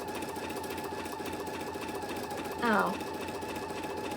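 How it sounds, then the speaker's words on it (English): An embroidery machine runs a placement stitch with a steady, rapid mechanical hum and needle rhythm throughout; a voice speaks briefly near the end, and a short rising whine follows. "it just went and is now sewing the second one"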